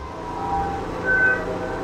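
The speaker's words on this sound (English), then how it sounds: "here comes that stupid train again" A train rumbles past in a farming game, a steady low continuous roar with faint whistle-like tones rising briefly over the drone.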